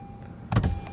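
A Honda Accord's electric power window motor runs briefly, a short whirring buzz that starts abruptly after a quiet moment, close by inside the car.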